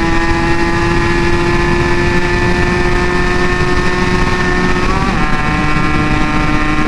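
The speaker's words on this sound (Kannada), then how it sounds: "ಗಾಡಿ ಮಾತ್ರ next level ಹೊಡ್ತೈತೆ. So RPM almost end ಆಗಿದೆ." A motorcycle engine screams at very high revs on a highway ride near Nandi Hills, a steady loud drone with wind rush; pitch dips briefly around the midpoint, then holds high again.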